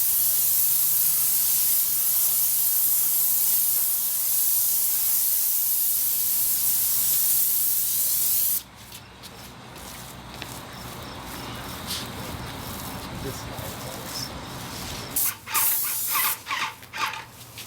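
Paint sprayer spraying stucco on a house wall, a loud steady airless hiss that cuts off midway, followed by quieter scraping, rolling and a few short spray bursts.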